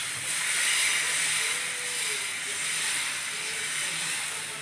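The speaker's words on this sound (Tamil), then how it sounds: "கல் காஞ்சிடுச்சுமா, தோசை ஊற்ற போகிறோம்." Mango dosa batter hisses and sizzles steadily on a hot griddle, a constant broad frying hiss lasting the whole moment with no talking.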